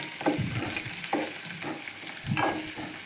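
Onions sautéing in a pan with salt and dried chillies, a steady close sizzle broken by several stirring scrapes at regular intervals.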